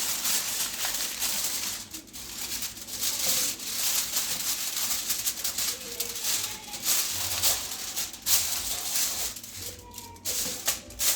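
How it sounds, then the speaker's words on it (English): Aluminium foil crinkles and rustles continuously at close range as it is pressed over a pot of chicken biryani, dense papery crackling with a few sharper crumples. "I'm going to take my aluminium foil and just cover this up."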